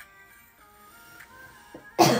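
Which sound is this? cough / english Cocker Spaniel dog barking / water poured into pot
cough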